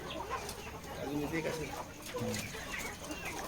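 Country (gavthi) hens cluck softly in a coop with chicks nearby, short scattered clucks and murmurs at moderate distance under a continuous background hiss, no voices.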